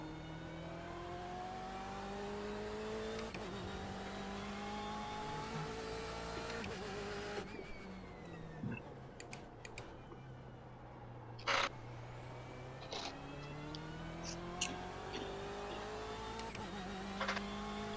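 BMW race car engines at the 24 Hours of Daytona in iRacing drone steadily, with pitch rising and falling as the cars accelerate and shift, along with brief whirs and clicks, all without talk.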